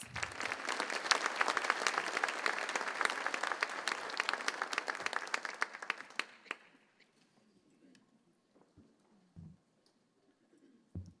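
A luncheon crowd applauds a school superintendent with loud, dense clapping for about six seconds, then it fades out to near silence with a few faint scattered sounds.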